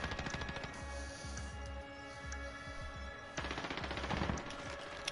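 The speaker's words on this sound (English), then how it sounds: "I wonder who he's shooting at" Rapid machine-gun bursts in Call of Duty Warzone rattle in repeated rhythmic volleys. The gunfire is moderately distant and fairly quiet, with a louder stretch of firing near the end and no voices.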